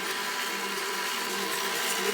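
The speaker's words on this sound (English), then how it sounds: "Start mixing." An electric mixer churns chocolate chip cookie dough with brown sugar, a steady, close whirring drone that holds at an even level for the whole stretch with no talking.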